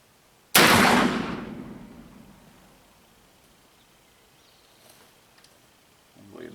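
A black powder Ruger Old Army revolver fires one loud, close shot whose boom trails off over about two seconds, followed by near silence and a faint low rumble at the end.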